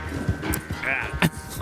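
Galloping horse hooves from Red Dead Redemption II, a quick irregular clip-clop of close hoofbeats over a busy bed of game sound, with brief bright bursts mixed in.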